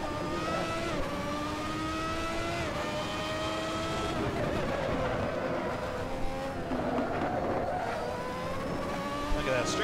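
Ferrari 643 Formula 1 car in Assetto Corsa accelerating hard in fourth gear out of a corner, its high-pitched engine note climbing steadily and loudly with someone talking over it throughout.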